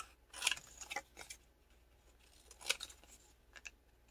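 Scissors snip a paper platypus cutout for a junk journal in quick, crisp cuts, a cluster early and another pair later, close and fairly quiet with no voices.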